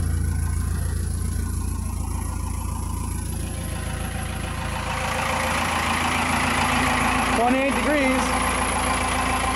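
A 4BT Cummins diesel engine idles steadily after a cold start at 28 degrees, a loud, continuous rumble close by, with a person briefly speaking over it.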